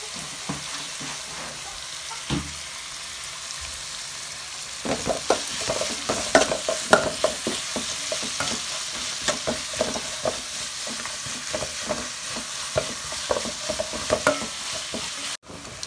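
Onions sauté with garlic and ginger paste for a vegetable curry: a quiet sizzle at first, then louder repeated scraping and stirring strokes over the steady frying.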